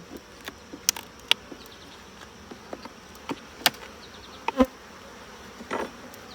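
Honeybees buzz around an open hive during an inspection, with scattered sharp bee passes close by over a quiet, low background hum.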